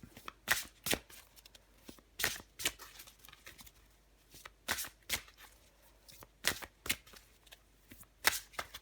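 A deck of tarot cards is shuffled up close in repeated quick riffles and flicks, irregular bursts of crisp card noise separated by short quiet gaps, with no talking.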